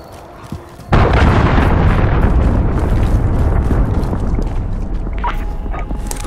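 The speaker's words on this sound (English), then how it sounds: "Allied cruise missile away." A cruise missile strike in Call of Duty: Modern Warfare lands with a sudden loud blast that rolls into a long, heavy rumbling roar of debris and fire, sustained for several seconds.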